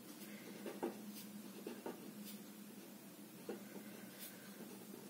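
Pen or marker writing by hand on paper or a board while working through a FIFO page replacement example, faint scratchy strokes with a few soft taps spread over several seconds, no voice.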